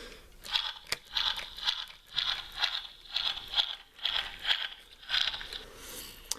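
A Jurassic World Pteramimus hybrid toy's arm-flapping mechanism clicks and crunches in quick repeated pulses, about a dozen plastic squeaks at a steady rhythm, close up and fairly quiet.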